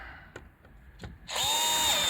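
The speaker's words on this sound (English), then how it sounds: "Self-tapping screws, that's all you need." A power drill drives self-tapping screws into a BMW E36 lens, with a couple of light taps and clicks followed by a loud, sustained whirring spin up close.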